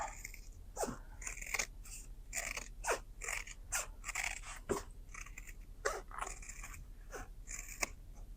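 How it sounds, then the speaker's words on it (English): Scissors snip repeatedly as fabric is trimmed close to a zipper on a sewn clutch, giving a steady run of crisp, close cuts with no talking. "I'm going to trim this down on my zipper"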